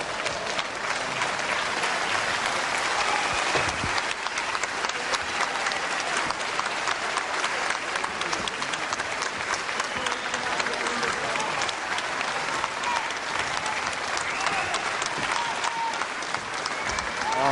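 A crowd applauds steadily after an eight-round professional wrestling bout between Colin Joynson and Tom Tyrone. Dense, continuous clapping mixed with crowd noise runs throughout at an even, loud level.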